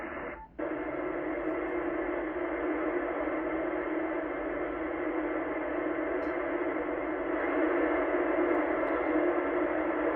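FM signal received on a radio scanning the 26–27 MHz CB band during high solar activity, a steady dense hiss-like transmission that follows a brief dip at the start and holds constant and fairly loud to the end.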